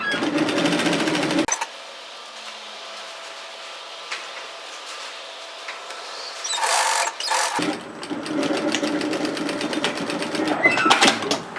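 A home sewing machine runs in two bursts, stitching a sweatshirt sleeve seam at a 1 cm (3/8 inch) allowance for ruffle layers. A quiet pause separates the bursts, and the motor hums steadily and close.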